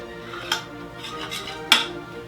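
Utensils clinking against a plate as pasticcio is served, two sharp metallic taps about a second apart over quiet kitchen background and soft music.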